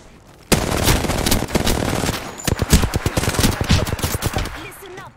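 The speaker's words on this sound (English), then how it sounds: "I'm getting shot at." Rapid bursts of automatic gunfire in a video game, loud and close, with dense volleys of shots and brief gaps between strings, nobody speaking.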